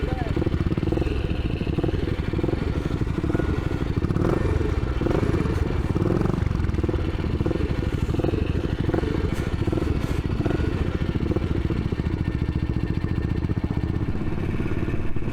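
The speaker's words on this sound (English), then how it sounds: "we have worked and worked to get that bike up and running and on the road" A British motorcycle's engine runs continuously at a steady, fairly loud level throughout, with a constant rumble and some mechanical clatter.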